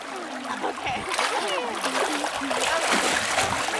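Water washes over white sand and carries it down to gravel, making a continuous splashing, trickling rush close by while voices talk over it.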